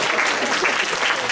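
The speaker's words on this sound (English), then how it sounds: "You can clap" Applause from an audience at an improv comedy show, a dense, even wash of many hands clapping loudly and continuously, with voices faintly mixed in.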